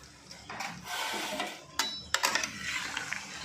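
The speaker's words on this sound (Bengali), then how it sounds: "এদিকে সরিষা জিরাটা কিন্তু ঠান্ডা হয়ে গেছে এটাকে আমি গুঁড়ো করে নিচ্ছি" Roasted mustard seeds and cumin being ground into powder, a mechanical whirring and rattling that runs in uneven bursts, with sharp clattering surges near the end.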